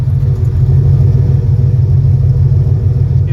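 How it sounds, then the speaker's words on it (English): A rebuilt factory 454 big-block V8 idles in a 1974 Chevy short-bed 4x4 pickup, running through a Dynamax muffler and 3-inch single exhaust. The close, loud rumble is low and steady, with an even burbling pulse. "It's a Dynamax muffler with 3-inch single exhaust."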